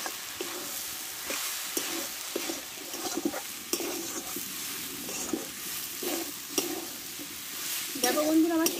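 Water spinach and potatoes sizzle in a hot pan, with a steady frying hiss broken by regular scraping stirs of a spatula and occasional clinks against the pan.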